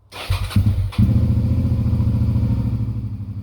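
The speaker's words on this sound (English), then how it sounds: "start up the bike and let it run for a few minutes to warm up" A Suzuki V-Strom 650 motorcycle engine cranks, catches, then settles into a loud, steady warm-up idle with a rapid rhythmic chug, close by.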